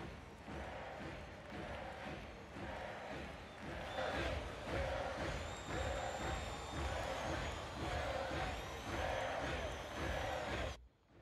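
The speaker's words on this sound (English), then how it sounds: "crowd's going crazy out there." A concert crowd cheers wildly, a dense, roaring wash of voices that stays loud and steady throughout and then cuts off abruptly at the end.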